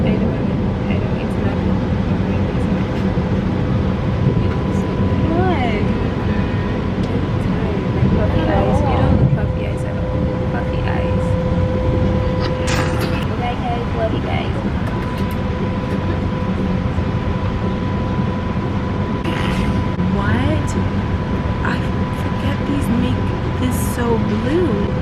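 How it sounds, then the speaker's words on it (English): Passenger train ride to Salerno, Italy, heard from inside the car as a constant loud rumble and hum with steady tonal whine, faint squeals, and voices talking under the noise throughout. "We're on the train to Salerno right now"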